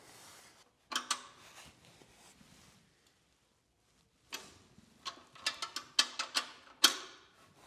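Wrench work on a brake hose fitting of a classic Willys Jeep: a run of sharp metallic clicks and ratchet ticks, bunched and irregular, fairly close, set apart by quiet pauses.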